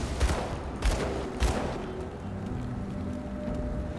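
Gunfire in the video game Grim Dawn rattles in a few quick bursts aimed at the player, then fades into a dense, rumbling wash of game noise with no talking.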